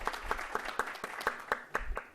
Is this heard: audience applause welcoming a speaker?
yes